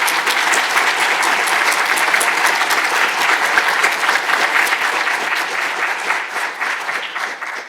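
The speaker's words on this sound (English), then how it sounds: "Let's give them a big round of applause." Loud, steady applause from an audience at a predoctoral fellows ceremony, dense clapping that fades slightly near the end.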